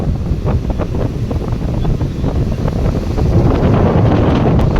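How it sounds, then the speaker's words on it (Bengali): Strong wind gusts buffet the microphone at a sandy beach with the sea nearby, a loud, continuous roar with broadband rumble and no break, building slightly toward the end. "এত হাওয়া দিচ্ছে, ফোন হাত রীতিমতন কাঁপছে"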